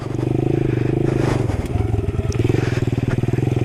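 A Honda Trail 90 motorcycle rumbles steadily up close as it rides over old railroad tracks on an off-road trip, its small engine droning with rhythmic pulses while brief clatters and scrapes mark the rough crossing.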